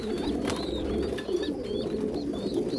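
Pigeons and young squabs cooing as they are fed handfuls of grain in a loft, with soft repeated coos and occasional higher chirps over a steady murmur of background noise.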